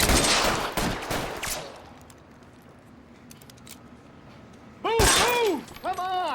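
Gunfire during an L.A. Noire shootout: a burst of loud sharp shots in the opening seconds, a quiet lull, then more cracks with ringing, metallic bursts near the end.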